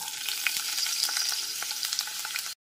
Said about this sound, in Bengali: এবার এর মধ্যে একটা মিডিয়াম সাইজের পেঁয়াজ কুচি দিয়ে দিলাম।